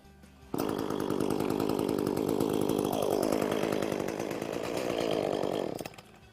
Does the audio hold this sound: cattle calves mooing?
no